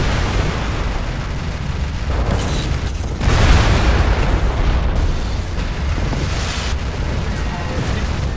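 Mech weapons firing and explosions in the MWLL video game, a loud continuous roar of blasts and rumbling booms with a heavier burst midway, dense and close throughout.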